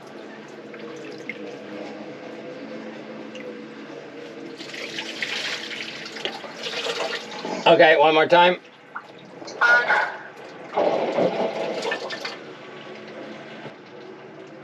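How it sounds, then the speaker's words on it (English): Water from a hose flushes through a sailboat's raw water intake pipe to clear a blockage, a steady running, splashing flow with louder gushing bursts midway, under brief talk. "I can hear the water going through the hose and out the boat."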